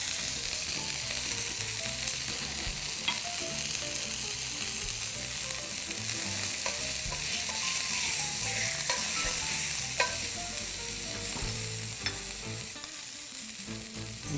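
Beef tenderloin steak searing in a hot pan gives off a steady, dense sizzle and crackle that carries through the whole stretch, loud and close, with occasional stirring or shifting sounds and no voices.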